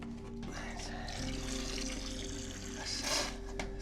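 Liquid trickles and splashes steadily into a container close by, a continuous watery pour lasting a few seconds.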